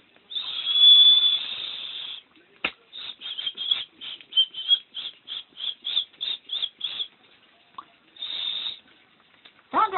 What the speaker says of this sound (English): the fact that I can do a whistle